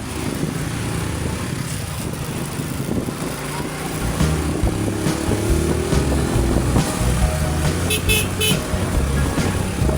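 Heavy road traffic on a city road from Caloocan to Quezon City, with a continuous rumble of car and motorcycle engines that grows louder midway and brief horn toots near the end.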